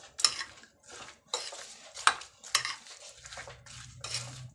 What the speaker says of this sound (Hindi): और ये मैं ऐड कर रही हूँ इसके अंदर एप्पल को और इसको थोड़ा सा ज़रा क्रीम में मिक्स कर लेते हैं।